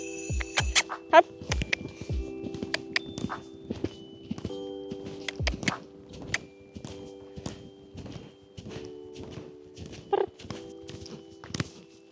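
Horse hooves clip-clop steadily while a rider works the horse toward a slow canter on a straight line, with a regular rhythm of close, fairly loud hoof strikes and occasional snorts.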